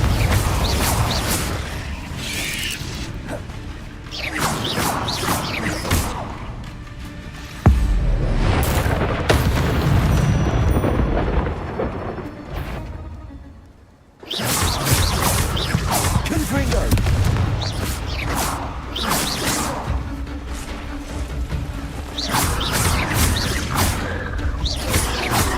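Repeated Confringo blasting-curse explosions in a Harry Potter video game, loud booming bursts and whooshes in quick succession over a spell-casting voice, with a short lull midway.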